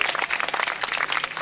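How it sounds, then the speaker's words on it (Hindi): An audience applauds a child prize winner called onto the stage at a community awards event, a brief burst of dense, fast hand clapping at moderate loudness. "give her a big hand, जोरदार ताली बजाइए इस बच्चे के लिए"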